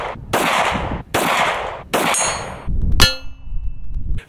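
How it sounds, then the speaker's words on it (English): Four loud shots from a Smith & Wesson M&P 40 pistol strike steel targets outdoors, each crack ending in a bright metallic clang that rings briefly. "It took Mr. Ethan four shots with his MMP."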